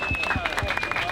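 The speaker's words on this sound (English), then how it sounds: "let's applause to Jana from Dobriciove." Audience applause at a hookah competition, a short burst of scattered clapping and crowd noise with a faint tone running under it.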